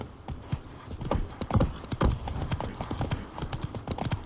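Roach the horse's hooves clop along in The Witcher 3, a quick, uneven rhythm of hoof strikes at moderate distance, with a faint snort or whinny and no talking.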